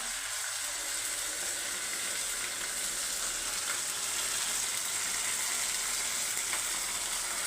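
Ginger and garlic sizzle in a hot pan, a steady loud frying hiss with fine crackle running throughout, no talking.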